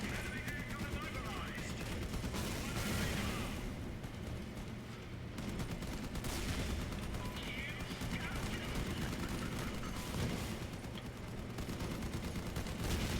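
Vehicle-mounted weapons firing in the Crossout combat game, a continuous loud barrage of gunfire and blasts that swells and eases over several seconds alongside game noise.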